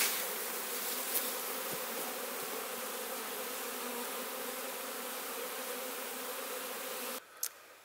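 A dense, steady buzzing of a honeybee swarm fills the air continuously, loud and close, with a brief tap near the start and a sudden drop near the end.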